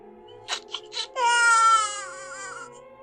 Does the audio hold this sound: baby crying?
yes